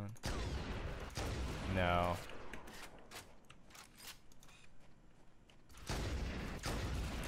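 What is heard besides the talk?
pistol gunshots in Halo: Combat Evolved video game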